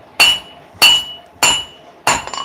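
Hot steel being hammered while a dagger is forged, with four evenly spaced, hard metallic strikes that ring briefly after each blow, close and loud with no talk.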